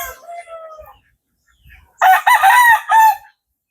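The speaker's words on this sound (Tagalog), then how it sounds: "Meron dito mini farm ng mga sasabunging manok." Fighting roosters crow loudly and close by on a small farm, one long crow followed by a second bird's strained cock-a-doodle-doo, with a brief pause between.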